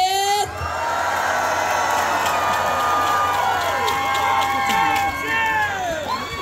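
A festival crowd at an autumn flower festival song contest in Hwasun cheers and applauds on cue, a loud continuous roar of shouting and clapping in an outdoor space with a voice calling out over it.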